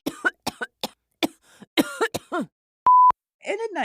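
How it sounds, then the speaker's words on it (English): General Grievous from Star Wars gives a string of short, raspy, mechanical-sounding coughs, one after another, broken by a brief electronic beep. "we have to understand how a robot is coughing"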